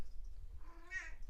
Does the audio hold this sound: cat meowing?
yes